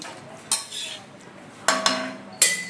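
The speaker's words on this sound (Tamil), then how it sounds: "இப்போ மிக்ஸ் பண்ண போகிறோம் நம்ம எல்லாம்" A utensil stirs vegetables and boiled water for Maggi masala noodles in a pot, with three sharp metallic clinks and scrapes against quieter stirring, close by.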